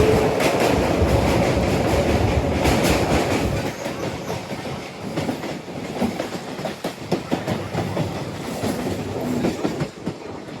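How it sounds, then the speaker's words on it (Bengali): A passenger train on the Sealdah line toward Tarapith rolls steadily past, with a loud, continuous rumble and rhythmic clickety-clack of wheels on rail joints throughout, no voices. "অবশেষে কিন্তু আমাদের ট্রেন এসে পৌঁছালো"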